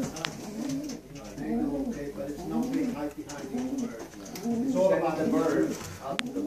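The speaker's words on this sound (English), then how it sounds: "Got total 16 pairs here. The birds look good." Pigeons coo steadily in a breeding loft holding sixteen pairs, their soft rolling calls close and layered, with someone talking over them.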